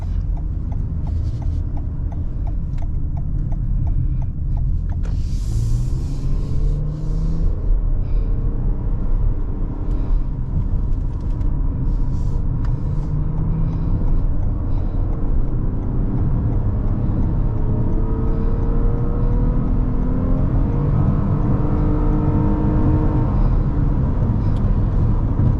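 A 2022 Toyota Highlander's 3.5-litre V6 engine pulls while driving, a steady loud low rumble with rising engine tones and road noise throughout, no one talking.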